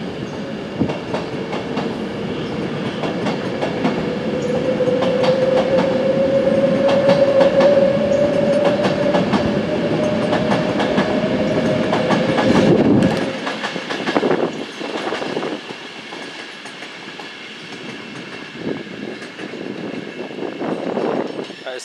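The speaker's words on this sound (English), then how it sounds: "Passing through, there's a Avanti Class 390 bound for London Euston." An Avanti West Coast Class 390 train bound for London Euston passes through at speed, a loud sustained roar of wheels and rails with a rising whine that cuts off abruptly, followed by quieter rumble and clatter.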